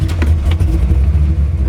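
A 1994 Chevrolet Corvette coupe engine gives a short, loud, deep rumble at start-up, heard close with no talking.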